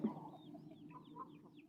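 Domestic hens raised at home cluck softly in a brief, faint burst of short throaty calls, heard close with no voices.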